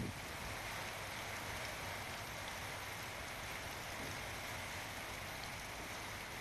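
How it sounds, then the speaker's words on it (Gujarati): Heavy rain from Cyclone Biparjoy pours down steadily over the Gir Gadhada forest area of Gir Somnath, a dense, even hiss of downpour that stays loud and constant throughout with no voices. "ગીર ગઢડા અને જંગલ વિસ્તારમાં ધોધમાર વરસાદ પડ્યો"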